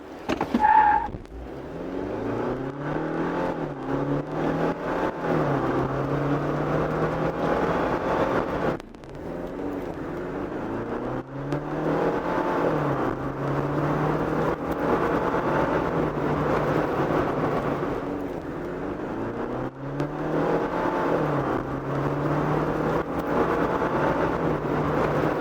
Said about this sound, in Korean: 저기 출발할 때 휠스핀이 잠깐 일어나고요.